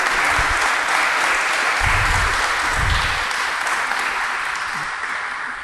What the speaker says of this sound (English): Can we just give a big round of applause for this wonderful panel?